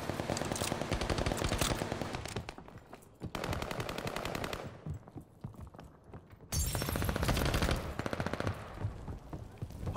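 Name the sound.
gunfire in video game Call of Duty Vanguard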